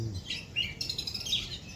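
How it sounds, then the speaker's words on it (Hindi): Small birds chirping in a home organic garden on a cloudy morning, a few quick high tweets, faint and slightly distant, with no talking. "चिड़िया कितना चहचहा रही है ना"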